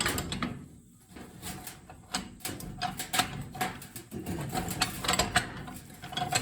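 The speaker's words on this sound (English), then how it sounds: "Now I'm going to put those gears back in and get everything tacked together and welded up" Metal differential gears for a racing lawn mower clink and clack as they are fitted together by hand in a shop, with irregular close knocks and scrapes spread through the clip.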